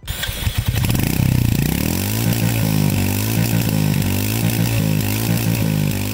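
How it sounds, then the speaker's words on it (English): A Royal Enfield Hunter 350 motorcycle engine starts and settles into a loud, throaty idle with rhythmic pulses and occasional revs, close to the microphone, with no talking. "The most important thing, the exhaust note."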